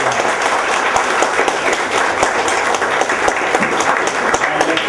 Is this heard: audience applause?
yes